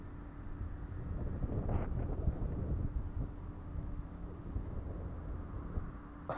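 Wind blowing outdoors while a paper sled kite is flown: low rumbling buffeting gusts on the microphone, steady and fairly soft throughout with faint tonal hum, no talk heard.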